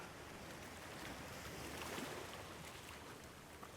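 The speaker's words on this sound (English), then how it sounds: "With the ocean waves tickling our feet." Gentle ocean waves wash steadily onto a warm, sandy beach in a continuous soft, hissing rush, close and unbroken, with no voices.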